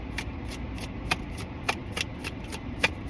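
Tarot cards are shuffled by hand up close, a string of crisp, papery riffling bursts falling in a fairly regular rhythm, with no voices over them.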